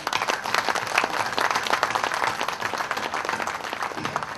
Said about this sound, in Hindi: कम से कम आधा मिनट ताली बजा करके इस खुशी को आपस में बांट लें अपन में